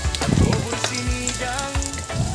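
Crushed garlic fries in hot oil with a loud, close sizzle and crackle, broken by a few stirring scrapes and soft clinks.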